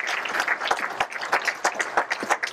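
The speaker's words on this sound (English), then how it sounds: "So a warm round of applause for our welcome," A room of people applauding event helpers and supporters at a community recognition evening; continuous, moderately loud clapping with distinct individual claps standing out throughout.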